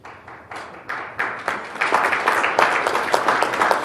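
An audience at a planetarium association conference business meeting breaks into applause, starting with a few scattered claps and swelling into dense, sustained clapping from a fairly large crowd.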